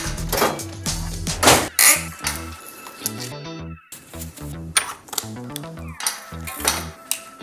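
Spare derailleur hanger being fitted to a Privateer 141 trail bike held in a workstand: a series of close metallic clinks, taps and tool rattles in irregular bursts, with no talking.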